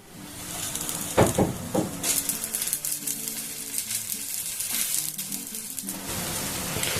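Dosa batter made from parboiled rice sizzles steadily on an oiled pan, a continuous close hiss with a few brief clatters near the start and no talking.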